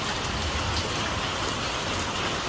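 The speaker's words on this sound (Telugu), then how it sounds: "దసరా రోజు వర్షం" Rain pours down on Dasara day as a dense, even hiss that fills the whole moment without pause, with no voices.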